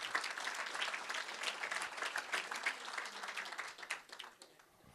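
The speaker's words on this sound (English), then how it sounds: "Please join me in a round of applause for Dr. Margolis." Audience applause at a university legacy lecture, steady dense clapping that fills the whole stretch and tapers slightly near the end, with no voices over it.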